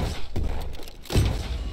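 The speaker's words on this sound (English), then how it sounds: "Grenade!" Grenade explosion in the video game Venge.io, a heavy, dull boom with a thudding low impact and a brief rumbling tail, following a smaller thump just before it.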